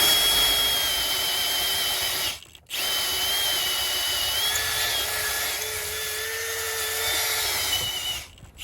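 A power drill bores into the injector housing of a Renault Trafic cylinder head, guided through a sleeve to free a seized injector: a steady high-pitched whine held for several seconds, cutting out briefly, then running again before stopping.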